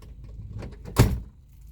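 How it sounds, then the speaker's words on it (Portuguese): A car door on a Chery Face or S18 is shut with a single firm thud, near and fairly loud, after some faint rustling. "Fecha a porta, faz favor."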